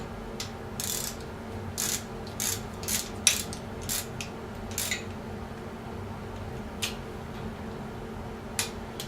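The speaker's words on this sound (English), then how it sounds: "grab a ratchet wrench" A ratchet wrench turns on a Bridgeport milling machine power drawbar adapter, giving short bursts of quick clicks at irregular intervals over a steady background hum.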